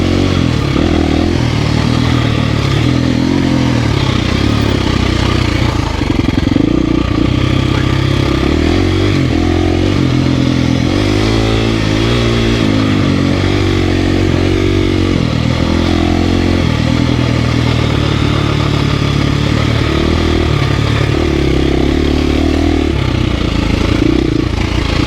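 A four-stroke dirt bike rides a single-track trail at Hollister, with a loud, continuous engine drone that rises and falls as it revs, plus clattering and scraping from the ride.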